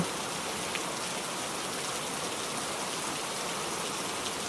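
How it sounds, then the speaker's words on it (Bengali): Rain falls in a dense, even hiss, a steady wash of drops with no pauses, close and fairly loud, with no voices over it. "লাল পোকা বৃষ্টিতে ভিজতে লাগল"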